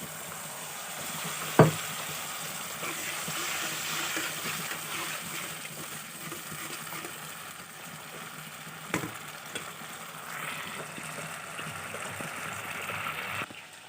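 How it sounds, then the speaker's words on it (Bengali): Spice masala frying in oil with a splash of water for a vegetarian soybean curry, a steady close sizzle and bubbling hiss with occasional stirring scrapes and a couple of sharp knocks against the pan. "আমার এখানে মশলাটা কষানো হয়ে গেছে দেখো কত সুন্দর তেলটা ছেড়ে দিয়েছে"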